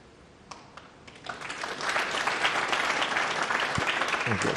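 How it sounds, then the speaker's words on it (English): Scattered snooker audience applause during a 2018 Champion of Champions quarter-final between Allen and Robertson, starting with a few isolated claps and swelling into steady, moderate clapping from a small crowd. "I've got a smattering of applause."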